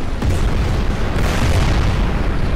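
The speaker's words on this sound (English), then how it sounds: "Come on, I'm shooting you." Gauss rifle fire in Crysis on Xbox 360, PS3 or PC: a loud, sustained rumbling blast with a deep roar that fills the whole moment, dense and close with no clear separate shots.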